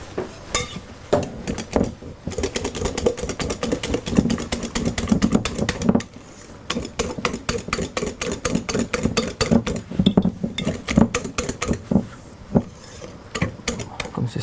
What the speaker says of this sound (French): je termine le mélange après au fouet pour bien lisser